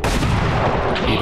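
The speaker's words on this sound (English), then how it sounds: "Taking heavy fire!" Overwatch shots in XCOM 2 erupt as a dense, loud roar of gunfire, a sustained close barrage with no clear gaps between rounds across its short span.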